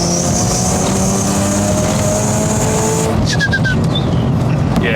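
Tuned rotary-engine car on a left-hand-drive road test, its engine droning steadily and close with rising harmonic pitch, then shifting to a rougher, revvier note with brief squeaks after about three seconds.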